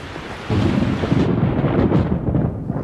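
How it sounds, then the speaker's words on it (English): Thunder from a storm brewing in the woods rolls in as a low, continuous rumble that swells suddenly and then holds steady and loud, with no talking. "Back in the woods, the temperature has dropped and a storm is brewing."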